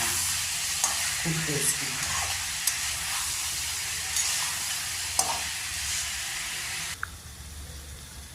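Food for paneer angara fries in a pan with a loud, continuous sizzle and hiss, broken by a few stirring clatters; someone speaks briefly over it.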